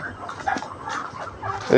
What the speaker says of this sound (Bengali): ছোট বাচ্চা চীনা হাঁসের।